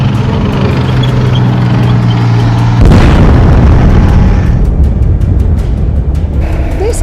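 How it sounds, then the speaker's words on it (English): A tank fires its main gun in archival Second World War footage of the battle of Ortona, Canada, giving one loud, heavy boom that rolls out into a long rumbling tail over steady low background noise. "we have the video of that tank shooting"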